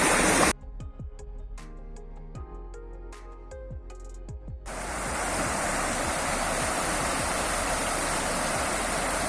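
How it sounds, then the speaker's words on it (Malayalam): A stream flows beside an areca nut plantation, with steady broadband rushing water filling the second half after a brief stretch of quieter, more tonal sound at the start. "ഇതിൻ്റെ സൈഡിൽ കൂടെ ഒഴുകിക്കൊണ്ടിരിക്കുന്ന ഈ പുഴ പോലത്തെ തോടാണ്"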